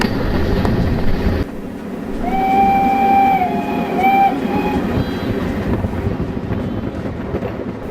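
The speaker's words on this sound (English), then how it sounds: "occasionally being perturbed by the sound of the passing trains" A passing train on the West Somerset Railway in the countryside, a steady rumbling roll joined midway by a sustained two-tone whistle lasting a few seconds, fairly near and loud with no talk.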